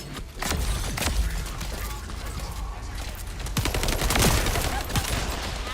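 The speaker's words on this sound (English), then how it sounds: "Turret engaged." An automated turret in the sci-fi shooter The First Descendant fires continuously, producing dense rattling bursts with mechanical clicks and layered combat effects, loud and steady throughout.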